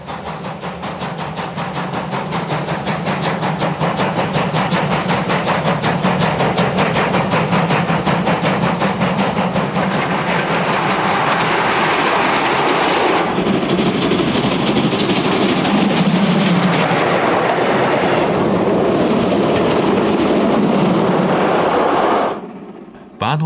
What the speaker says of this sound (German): Einige Vorbeifahrten in der nebelversunkenen Gegend von Oberkotzau.